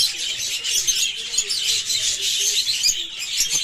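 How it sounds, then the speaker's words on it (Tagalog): Dense, continuous bird chirping fills the air, many rapid tweets overlapping at close range. "Napakaganda pong ibon yan."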